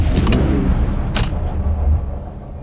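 Layered car start effects: a couple of sharp mechanical clicks, then a bright crack, over a low rumbling engine hum that fades near the end.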